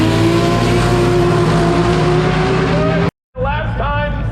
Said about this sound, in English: David Farlow, the car in the right side water box